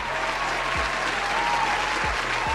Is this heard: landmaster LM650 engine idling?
no